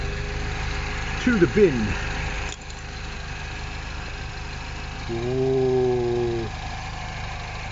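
The engine of an R56 Mini Cooper S idles while warming up, a steady low rumble that runs throughout. Brief spoken remarks come over it early on and again near the middle.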